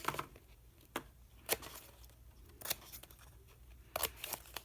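Scissors cut paper for a lap book: a series of faint, close snips at irregular intervals, with soft rustling of paper between them.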